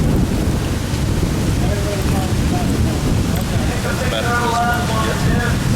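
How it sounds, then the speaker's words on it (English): Steady, heavy rain and gusting wind from a summer storm pour down outdoors near an awning, a dense unbroken roar throughout, with faint muffled voices briefly audible beneath it. "Quite a storm, huh?"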